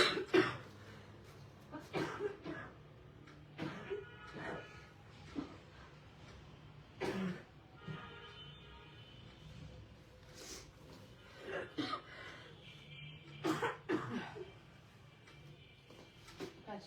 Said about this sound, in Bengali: কাশি উঠছে আর বন্ধ হচ্ছে